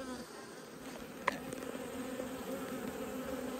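Honey bees buzz steadily around an open hive in an Australian apiary, a dense continuous drone up close with one brief sharp knock partway through and no talking.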